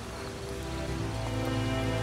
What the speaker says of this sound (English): Not super heavy rain, a nice light rain, but still it adds to the toughness of driving.